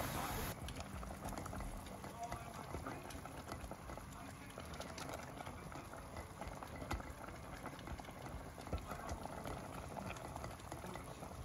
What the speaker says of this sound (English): added water in my pot and added my tamarind or ukwaju. So it's boiling.